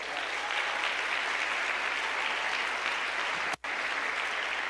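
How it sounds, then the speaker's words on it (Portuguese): Church congregation applauding a deacon, steady dense clapping that fills the room throughout, broken by one abrupt momentary dropout near the end. "Uma salva de palmas aqui."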